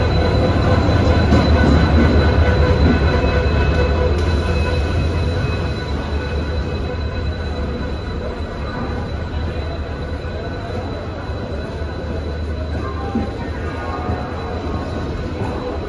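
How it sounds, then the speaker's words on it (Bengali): Duronto Express train (12245) arriving at Howrah station, a steady loud rumble of rail cars and wheels that eases slightly after the first few seconds, with faint station voices underneath. "আমাদের ট্রেন আসছে।"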